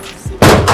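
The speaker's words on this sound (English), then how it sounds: "I heard gunshots." A single sharp gunshot cracks out loud and close after a brief muffled thud. The bang is abrupt and ringing.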